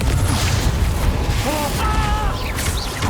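A Confringo fire spell blasting in the Hogwarts Legacy video game, a loud, dense rumbling burst with crackling debris and whooshing tones amid continuous battle noise and music.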